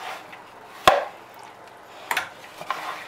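A spoon works through a bowl of potato salad, making a sharp knock against the bowl, then a few softer scrapes and taps in a quiet room.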